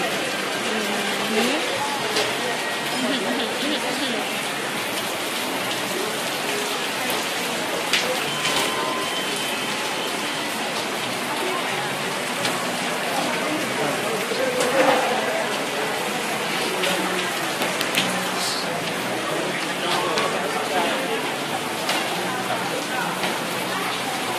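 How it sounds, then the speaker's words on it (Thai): Heavy rain pours down steadily at an outdoor spot, a dense, loud hiss of drops on surfaces that runs unbroken throughout with small spatters and splashes. "นตกหนักมากนะที่นี่ แบบมองไม่เห็นอะไรเลย เห็นเป็นแบบมีแต่ฝนตกอย่างเดียวเลย"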